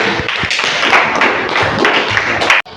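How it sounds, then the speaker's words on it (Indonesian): A small group of schoolchildren claps steadily for a few seconds in a classroom, close by, with scattered taps and thumps, then the clapping stops abruptly. "tepuk tangan untuk Nadifa."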